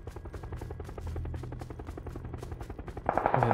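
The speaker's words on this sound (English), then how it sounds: "That's an MG3!" An MG3 machine gun fires in PUBG, a steady rapid burst of evenly spaced shots rattling for several seconds at moderate distance, with a different sharper sound cutting in near the end.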